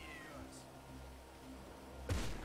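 A cat in the video game GTA 5 gives a short, fairly faint meow that falls in pitch, followed by quiet in-game ambience and a brief louder burst at the end.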